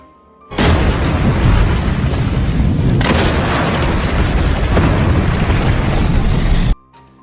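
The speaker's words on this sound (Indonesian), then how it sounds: "Thomas berhasil meledakkan gudang bahan bakar" A fuel depot blows up in a war film about Indonesian fighters against Dutch colonial troops: a sudden loud blast with a second boom around mid-clip, then a sustained roaring, crackling rumble that cuts off abruptly.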